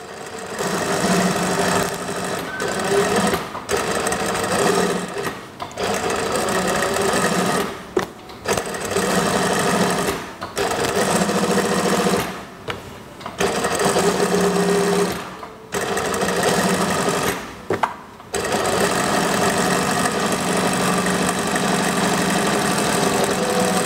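A sewing machine runs in long steady bursts while stitching a kimono-style house dress, its fast mechanical hum stopping briefly several times before starting again, loud and close.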